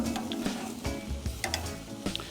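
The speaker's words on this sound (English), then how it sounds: "So our vegetables have been cooking for right about 2 minutes, and I'm just going to turn them the other way." Vegetables sizzle on a grill as they are turned, giving a soft, steady crackle with a few close clicks and scrapes of the turning, quiet and without voices.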